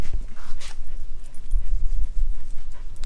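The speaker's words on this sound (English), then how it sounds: "Shop dog, Mocha." Mocha the shop dog, near in a garage workshop, gives a few soft whimpers and panting breaths over about three seconds, with low rumbling background noise and no speech.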